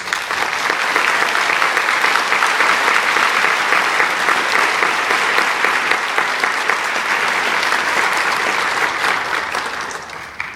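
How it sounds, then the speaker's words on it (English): An audience gives outstanding young people a warm round of applause at a recognition event, a thick, even roar of clapping that carries on steadily and tapers off at the very end. "Please join me in giving these outstanding young people a round of applause"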